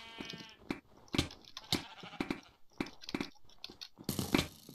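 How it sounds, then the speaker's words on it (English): Repeated sheep bleats in the video game Sheep Quest, several wavering cries in quick succession over a busy game soundscape with crunchy impacts. "This guy's trying to kill our sheep."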